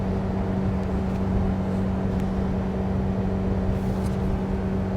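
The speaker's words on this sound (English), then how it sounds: "I don't know if you can hear how hard it's revving" A Mitsubishi Pajero Mini's small engine drones hard at high revs on a freeway climb, a steady loud cabin hum with constant low-pitched tones and road roar throughout, no voices.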